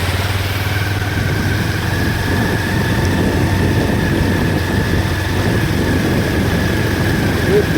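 Motorbike engine running steadily while riding through village roads, a continuous loud drone with a low hum and a faint high tone throughout, with no break.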